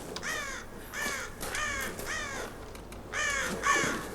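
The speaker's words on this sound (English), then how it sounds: "Crows, huh?" Crows caw in a Tomb Raider video game scene, about six harsh calls in an uneven rhythm, moderately near and clear over a quiet background, with no talk.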